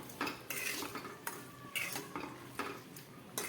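A spoon stirs sugar into chili sambharo in a pan, giving a few sharp metallic clinks and scrapes at irregular intervals, close and fairly quiet, with no talking.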